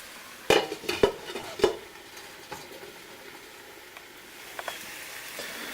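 Several clattering pan and utensil knocks up front, then a quiet, soft simmering sizzle as tomatoes cook under a lid for a mushroom tomato ragu.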